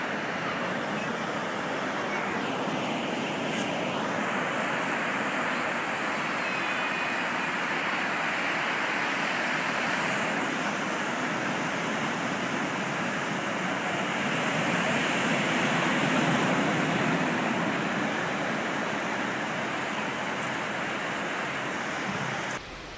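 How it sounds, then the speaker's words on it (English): Ocean waves break on the shore at Morro Bay on a clear day, a continuous broad wash of surf and churning water that swells slightly midway, with no distinct voices. "The waves are breaking."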